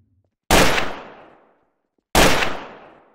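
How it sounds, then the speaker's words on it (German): Two loud, sharp gunshots about a second and a half apart in the game Trouble in Terrorist Town, each a sudden blast with a short decaying tail, alone without talk. "Ey, wer schießt hier?"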